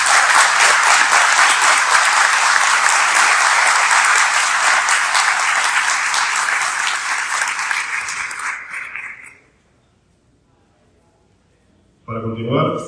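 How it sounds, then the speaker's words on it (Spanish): An audience at a book launch in Caracas for a work on seismic risk and mitigation claps in loud, sustained applause that fades out after about nine seconds, then a voice begins speaking. "Un gran aplauso a los autores de este libro y a esta extraordinaria iniciativa."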